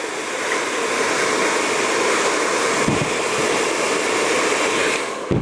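A heat gun blows hot air onto a graphics sticker on a 2024 KTM 300 XCW dirt bike. It makes a steady, loud, close whooshing rush that holds unchanged for the whole stretch, with no voices.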